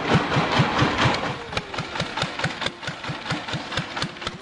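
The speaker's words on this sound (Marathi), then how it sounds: "बॅरल मधली स्लरी ट्रॅक्टरच्या मदतीनं शेतात." An old Ferguson tractor engine idles close by with a steady, rhythmic thumping beat of evenly spaced firing pulses and no voices.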